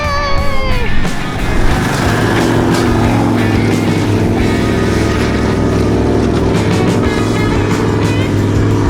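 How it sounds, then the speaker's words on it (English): A V8 vehicle climbs a steep track with a loud, steady engine drone that holds nearly constant throughout, with a brief rev change near the start. "The tune in this V8 makes it so much fun to drive."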